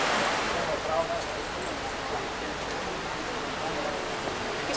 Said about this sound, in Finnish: Hassusti vesi rapisee ihan.